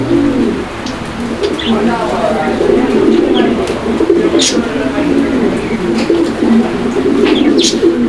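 Fancy pigeons at a farm coo steadily in low, throaty rolls, close by, with occasional brief chirps from other birds and a busy, noisy background.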